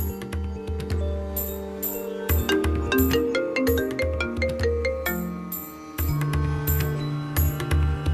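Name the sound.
phone call ringing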